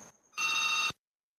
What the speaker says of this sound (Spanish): Y perdón por el teléfono.